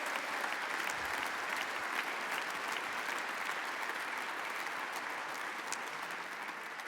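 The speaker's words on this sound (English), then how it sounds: "let's give them all a round of applause for being here" An audience gives a sustained round of applause, dense and even, continuing at a steady level throughout with no voices over it.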